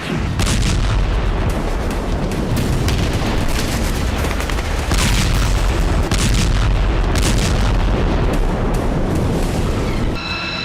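Heavy bombing by the US Air Force around Sanaa and Saada in Yemen produces a loud, dense, unbroken roar of booming blasts and rumbling that lasts throughout, with some crackling bursts on top.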